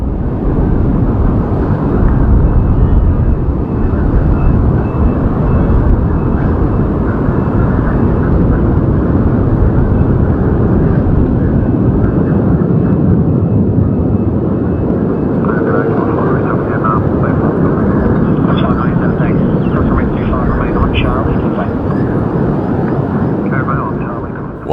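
A large airplane after a failed takeoff, landing gear still extended and dumping fuel for an emergency return, gives a loud continuous engine roar throughout, with someone narrating over it.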